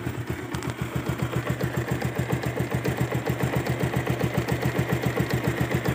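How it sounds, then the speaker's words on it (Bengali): A Bajaj Pulsar 150 Twin ABS motorcycle from late 2022 idles close by with a steady, rapid single-cylinder putter and a fast even rhythm that holds for the whole stretch, with no other sounds. "তো বাইকটা এখন স্টার্ট করছি, ইঞ্জিনের সাউন্ডটাও দেখুন একদম নিউ"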